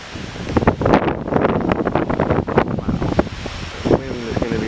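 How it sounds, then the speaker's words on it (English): Strong wind blows outdoors and buffets the microphone with a loud, gusty rumble that is constant throughout, and a voice speaks briefly near the end. "The wind is going to be brutal, unless I can get the wind reduction to come on."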